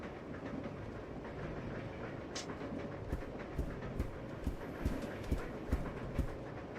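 A train carriage rumbles steadily along in the Resident Evil survival horror game, a dense continuous roar with a run of evenly spaced clacks of wheels over rail joints building in the second half.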